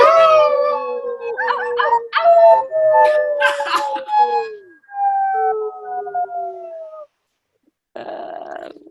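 A group of people imitate wolves, howling together at a new moon gathering. Several long, rising and falling voiced howls overlap for about seven seconds, then a short silence, then another burst of howling.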